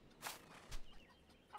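A rooster in the farming game Farmer's Life gives a few short, faint clucks close by, in otherwise quiet surroundings.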